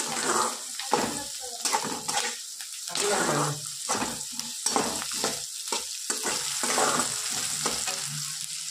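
Green chillies and chopped capsicum fry in a pan on a village kitchen stove, with a steady sizzle and frequent scraping and stirring of a spoon against the pan.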